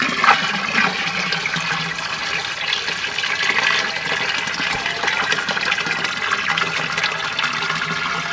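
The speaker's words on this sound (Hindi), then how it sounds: "तो हाँ पानी नाखो जी" Water pours steadily and loudly into a container while making neemastra, an organic pesticide mixed with cow dung, a continuous rushing splash throughout.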